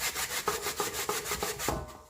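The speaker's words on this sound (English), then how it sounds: "I'm just gonna grate my sweet potato first" Sweet potato rubbed against a hand grater in steady back-and-forth strokes, a rasping scrape repeating about every third of a second, close and loud with no voices.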